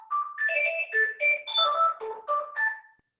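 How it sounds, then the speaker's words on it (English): An office phone rings with a bright electronic melody of quick rising and falling tones, repeating steadily for about three seconds and fairly loud, with no talking over it. "It's the office phone."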